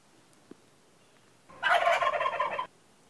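Wild turkeys gobble near a creek, a single rattling gobble burst lasting about a second, moderately distant and clear against quiet outdoor background.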